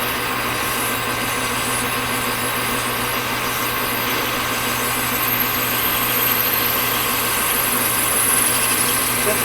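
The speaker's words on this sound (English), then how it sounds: "let me get a drill and see what I'm going to do" Drill boring a hole larger than 5/16 inch through metal in a shop: a continuous, loud, even mechanical whine and grind that holds steady throughout, with slight swelling near the end.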